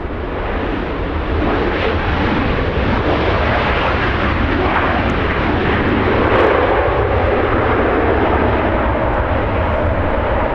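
A Qantas jet at Los Angeles International Airport gives a loud, steady roar of jet engines that swells slightly midway and holds throughout, with no talk over it.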